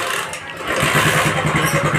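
A TVS XL100 moped engine is started and catches, settling into a rough, throbbing mid-pitched idle that sounds close and loud, with no clear talk.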